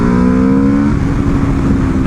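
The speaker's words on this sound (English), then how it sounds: "Sounds angry even at low RPMs in second gear." A 2024 Aprilia RSV4 sportbike engine growls at low RPM in second gear, a loud, steady, rough drone with close wind rush and no voices.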